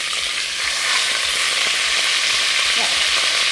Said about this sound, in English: I've just rolled my beef and I've been frying it